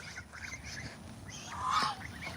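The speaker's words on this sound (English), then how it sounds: "Y'all see that little duck right here?" A small duck on a farm gives a few nearby honking, quacking calls that peak near the end of a short stretch, with faint outdoor background and no talking.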